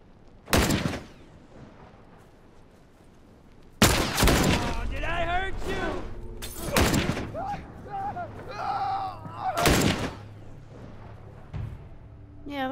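Sharp, isolated gunshots in The Last of Us Remastered ring out one at a time, four loud cracks spaced seconds apart, with people talking and game sounds between them.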